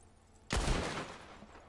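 A gunshot in Red Dead Online during a legendary animal hunt: one loud, close crack that cuts through near-silence, then a long rolling echo dies away with no speech.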